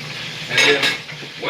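Snapper for Jamaican escovitch fish fries in oil in a pan, a close hiss and sizzle mixed with brief utensil clinks and stirring scrapes over a second and a half.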